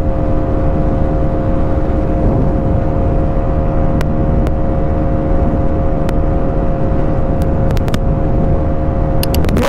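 A Bajaj NS400z motorcycle pulling hard in fifth gear, a steady loud engine drone with constant rumble and wind rush, the pitch holding high and even throughout, no voices over it.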